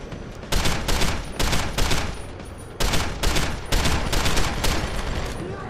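Loud, dense gunfire from the video game Deus Ex: Human Revolution, The Missing Link, with a base turret and heavy weapons firing, comes in repeated rapid bursts separated by brief pauses.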